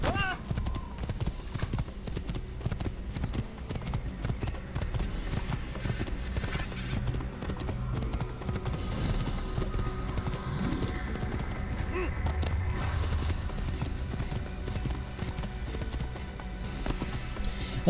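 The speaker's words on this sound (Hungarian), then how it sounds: "Pacizunk." Video game horse hooves from Assassin's Creed clip-clop in a quick, steady galloping rhythm, with occasional whinnies, under a continuous game soundtrack and someone talking.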